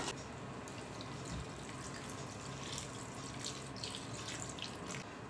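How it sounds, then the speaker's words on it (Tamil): Water is poured into a crab gravy while it cooks, a steady close stream of running, splashing liquid that lasts throughout without pause. "இந்த கிரேவிக்கு தேவையான தண்ணி நான் இப்போ வந்து ஆட்"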